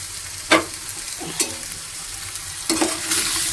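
Fried lote fish jhuri being stirred in a pan, three distinct scraping spatula strokes over a soft continuous sizzle, close and clear with no talking.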